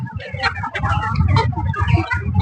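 Several chickens cluck and murmur continuously, close by, in a busy overlapping chorus.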